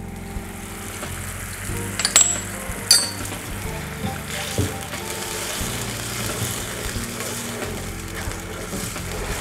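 A chilli sauce mixture of soy sauce, vinegar, salt and white chilli powder cooks in a pan with a steady close sizzle, broken by a couple of sharp clinks of a utensil early on.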